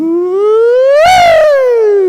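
A single voice imitates an ambulance siren, rising in one smooth, loud wail to a strained peak and then slowly gliding back down, close and alone with no other sound.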